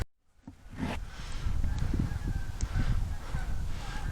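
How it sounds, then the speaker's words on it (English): A flock of Canada geese honks repeatedly at a distance, overlapping calls against outdoor ambience, moderately faint and continuous. "Got a flock of Canada geese coming in over there"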